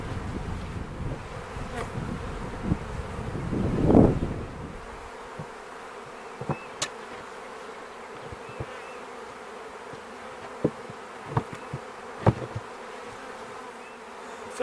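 Honeybees buzz loudly as they are shaken off a frame at the front of a hive during a colony split, with a thick swell of buzzing early on, then a steady hum and scattered close sharp buzzes from single bees.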